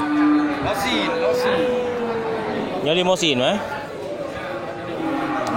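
Cattle at Grogol livestock market, including a cow with a calf. A single rising moo comes through midway, with steady talk and crowd chatter running throughout.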